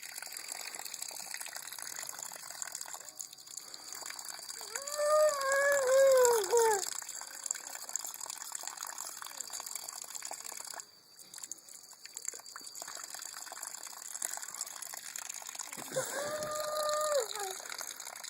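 Water runs steadily from an outdoor faucet as a ten-month-old baby in boots plays in the stream, a continuous moderate gush with a brief dip midway and a child's high vocal squeals over it.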